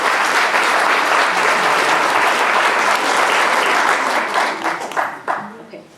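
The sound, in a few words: round of applause for spelling bee learners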